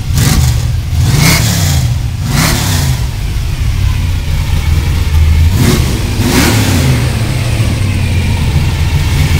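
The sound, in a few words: hot rod car engine revving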